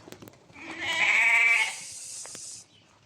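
A pure-bred Qissar breeding ewe lamb gives one loud, close, drawn-out bleat lasting about two seconds, with quieter farmyard rustling before and after.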